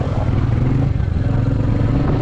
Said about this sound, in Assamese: বাইকৰ মাতো চেঞ্জ হৈ গৈছে ইয়াত